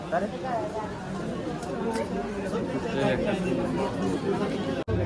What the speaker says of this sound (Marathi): मार्केटची बघा तुम्ही गर्दी